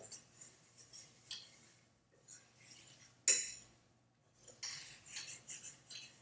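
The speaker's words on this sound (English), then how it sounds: "Make the fork go all the way around the pan, all the way through the pan." A fork stirring eggs in a pan, with light metallic scrapes and clinks arriving in uneven bursts and one sharper clink partway through, quiet overall.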